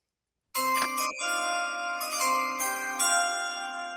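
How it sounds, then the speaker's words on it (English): Bright bell-like chime announcing a draft pick during an NFL creator mock draft, ringing out suddenly with layered sustained tones and a few restruck notes, loud and alone. "Quaddy, here's your chime."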